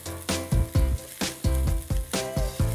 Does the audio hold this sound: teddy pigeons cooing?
no